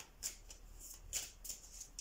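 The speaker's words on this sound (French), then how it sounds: "Alors on va voir" Tarot cards being shuffled in hand, a few soft quick riffling bursts spaced irregularly, close but very quiet.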